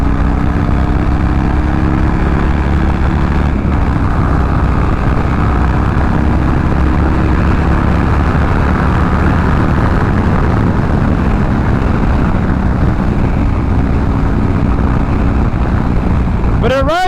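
A Harley-Davidson motorcycle launches from a stop with a loud, sustained engine roar and rushing wind noise that fills the whole stretch, building steadily up close.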